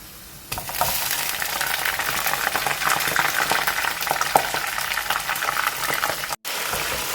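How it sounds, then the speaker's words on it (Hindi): Meat is added to onions frying in hot oil for masoor dal gosht, and a loud sizzle bursts up and then holds as a steady crackle. The sizzle cuts out briefly near the end. "सबसे पहले हम इसमें गोश्त ऐड करेंगे फ्राई करने के लिए।"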